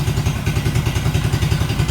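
The engine of an old Suzuki Quad Runner ATV, pulled from a chicken shed, idles up close with a loud, steady, rapid low-pitched pulsing.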